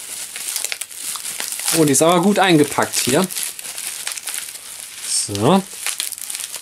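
A graphics card is unwrapped from thick, well-padded packaging, with loud, close crinkling and crumpling of plastic and paper throughout, while someone speaks German in short bursts over it.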